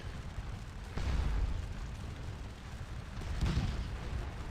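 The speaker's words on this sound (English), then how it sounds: "So... that would be artillery, I think." Artillery fire in the SOW Dogs of War strategy game sounds as two distant, muffled booms about two seconds apart, each swelling and then rolling off over a steady low background rumble.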